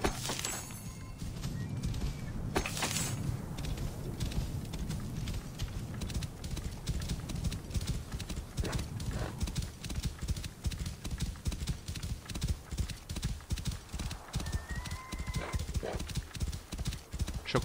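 Horse galloping cross-country in Assassin's Creed Origins, set in ancient Egypt, with steady rapid hoof clip-clop throughout, brief neighs, and loud continuous game ambience underneath; no talking.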